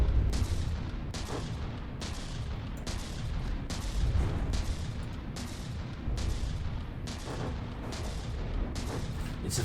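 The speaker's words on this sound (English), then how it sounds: "Remember, these are 500mm gun." Heavy 500mm battleship guns fire in the naval combat game From the Depths. Booming shots come in a rapid, roughly regular barrage across the whole stretch, loud and reverberant, and no one speaks.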